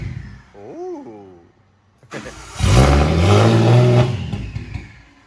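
A car engine revs hard through its exhaust, a loud sustained roar climbing and holding after a quieter earlier blip, the car freshly running with an injector tank still needing change.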